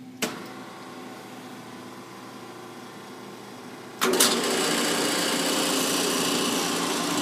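A click, a stretch of low hum, then a 40-ton Wabash vacuum press engages with a clunk as it closes, and a steady whirring mechanical drone continues.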